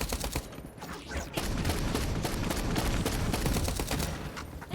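Shotgun and gunfire blasts in the FPS video game FragPunk, a dense run of loud repeated shots with overlapping bursts, heard close and steady throughout with no talk.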